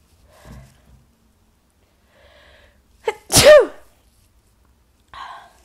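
A single sharp human sneeze bursts out close and loud after a soft breathy wind-up and gasp, followed by quiet and a faint trailing breath.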